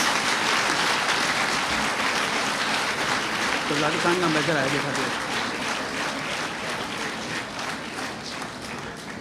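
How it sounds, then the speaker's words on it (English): A large crowd applauds loudly and continuously, the clapping fading slightly toward the end while a voice speaks briefly underneath. "please give them a huge applause"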